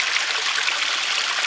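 Creek water flowing steadily over rocks, a continuous bright rushing trickle with no pauses, close and fairly loud, alone without voices.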